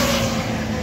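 Trucks roaring past on a highway in India during a long-distance motorbike ride, a loud, dense rush of engine and road noise filling the whole brief moment.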